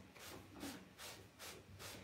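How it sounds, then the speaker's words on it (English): Wet sanding a painted surface by hand, with water sprayed on: a rhythmic back-and-forth rasping scrub in steady strokes of about two per second, close and fairly quiet, with no talking. "I'm just wet sanding."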